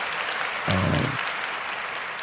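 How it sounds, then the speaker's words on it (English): Brief applause during a 49ers vs Giants preview show, a short burst of clapping that stands out over steady background noise before fading quickly. "So round of applause to Christian McCaffrey."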